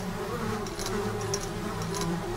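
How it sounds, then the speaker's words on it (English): A bee buzzes steadily inside the VR game Titans Clinic, a continuous close droning hum that stays level throughout over a faint background bed. "We seem to have a bee problem."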